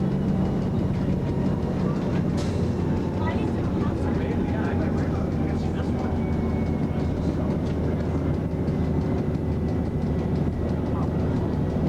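The Pikes Peak cog railway train in Colorado rumbles along steadily with continuous mechanical clatter and rolling noise throughout, someone narrating over it.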